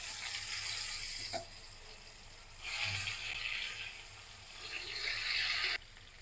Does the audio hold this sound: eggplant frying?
yes